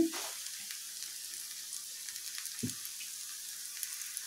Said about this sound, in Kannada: ಇದು ಇನ್ನೊಂದು ನಿಮಿಷ ಫ್ರೈ ಆಗಲಿ ಚೂರು ಎಣ್ಣೆ ಹಾಕೊಳ್ತೀನಿ